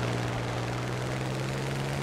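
Steady propeller engine drone of a Ki-45 twin-engine fighter plane in a flight video game, with a constant low hum and airy noise, loud and unbroken.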